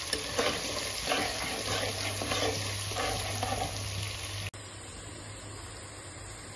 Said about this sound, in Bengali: এবার এটাকে ভাজা ভাজা করে দেবো।